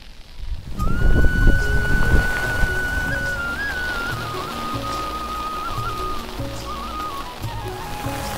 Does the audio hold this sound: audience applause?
no